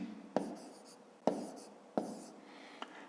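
A pen or chalk writes numbers while solving a multiplication problem, three distinct quiet bursts of scratching strokes with a faint tap at the end, close and alone.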